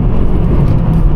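A fake Tesla car accelerating on snow gives off a loud, steady low rumble and whir that stays even and continuous throughout the short stretch.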